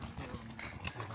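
Horse hooves clip-clop along a forest trail in the Montenegrin mountains near Maglić and Trnovačko Lake, a steady, fairly close series of soft thuds over a continuous outdoor background.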